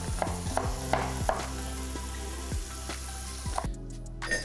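Onions going into a pot for blanquette de veau sizzle steadily in hot fat, with a few sharp clinks of a utensil against the pot and a brief scrape near the end; no talking.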